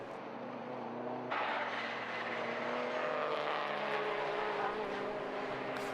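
Race cars at Brands Hatch Indy circuit during an endurance race, a Honda passing to the inside, engines droning steadily at moderate distance with a sharper louder pass partway through.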